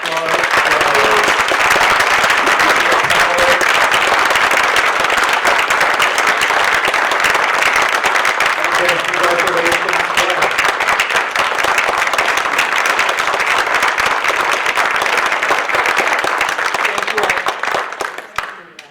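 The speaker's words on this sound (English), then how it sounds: "Can we have a round of applause?" Sustained applause from a large audience at an award ceremony in a media center, dense steady clapping with scattered cheers that holds for most of the clip before quickly dying away at the end.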